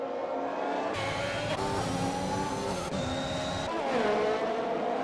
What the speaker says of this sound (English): The Ferrari, he has the speed down the straight, and he has 2nd place back.